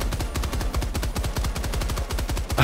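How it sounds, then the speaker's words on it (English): Rapid bursts of automatic gunfire from shooting enemies in the video game Helldivers 2, loud and close, with fast repeated shots running without pause. "I don't know what I'm shooting at, but I'm hitting stuff"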